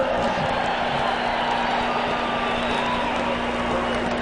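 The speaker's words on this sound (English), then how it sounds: "you can hear it from the noise in the background, the cheering of the crowd" A boxing arena crowd cheers for Salvador Sanchez before his fight with Richard Rozelle, a steady, dense roar with scattered applause filling the background beneath a voice.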